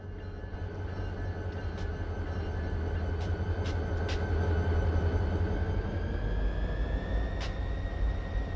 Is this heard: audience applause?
no